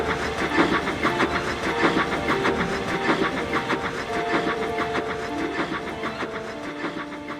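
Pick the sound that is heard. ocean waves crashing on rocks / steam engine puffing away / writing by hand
steam engine puffing away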